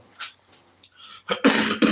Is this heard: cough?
yes